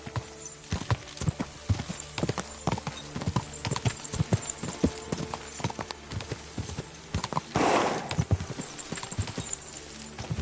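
Horse hooves clip-clop in a rapid galloping rhythm in the video game Kingdom Come 2, a steady stream of sharp, close hoof strikes with a brief rushing burst midway.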